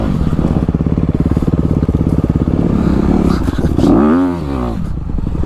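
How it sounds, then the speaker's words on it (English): A 2020 Honda CRF 250 RX dirt bike rumbles loudly and close on a trail ride, its engine pulsing steadily before a sharp rev swell and then easing off. "Today I'm riding the 2020 Honda CRF 250 RX."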